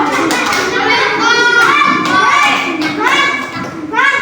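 Children clap their hands in a classroom clapping game, sharp claps landing among lively chanting kids' voices, close and fairly loud throughout.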